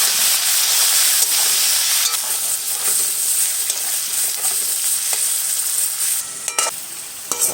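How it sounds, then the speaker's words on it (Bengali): Diced potatoes and vegetables fry with salt and turmeric in hot oil for a vegetable dal, giving a loud, continuous sizzle and hiss with occasional stirring scrapes, alone and close up. "আলু, লবণ, হলুদ দিয়ে আমি সবজিটা ভালো করে ভেজে তুলে নেব।"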